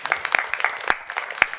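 Audience applause after a talk at a journalism and religion event, heard as scattered, uneven clapping with sharp individual claps and no voices over it.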